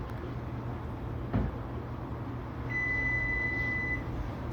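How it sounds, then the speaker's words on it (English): A kitchen timer or oven alarm goes off while sourdough and cinnamon raisin loaves bake, sounding as one steady, high electronic tone held for about a second, clear above low room hum. "Alarm's going off."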